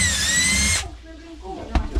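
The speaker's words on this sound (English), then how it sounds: "next step is to drill a 1/4 inch hole" A power drill whines steadily for under a second while enlarging a hole to 1/4 inch during a reverse osmosis system install, then stops, leaving brief low clunks.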